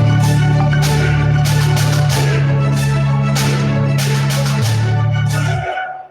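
Layered orchestral combat music for a video game, built on a sustained low drone with repeated percussive hits and chanting-like voices, loud and full throughout before fading at the end.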